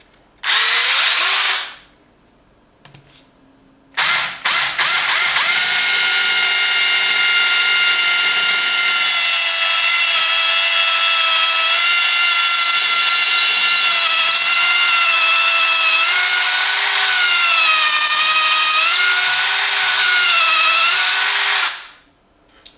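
A Parkside PABH 20-li cordless drill bores into soft brick with concrete filling in plain drilling mode, a loud steady whine held for about seventeen seconds after a brief start and stop, with no talking.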